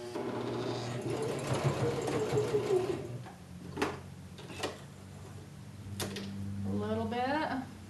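A sewing machine stitches a kimono gown in a steady mechanical run during the first three seconds, then quieter handling follows with short bursts at the end.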